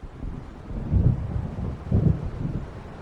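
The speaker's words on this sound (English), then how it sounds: "It seems there's a storm coming." An approaching thunderstorm over a lake in Alan Wake Remastered brings two low, rumbling thunder rolls about a second apart over gusting wind noise, with no voices.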